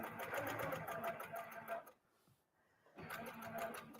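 Sewing machine running steadily during free-motion quilting of straight lines, a dense rapid stitching whir that stops for about a second near the middle, then starts again at full speed.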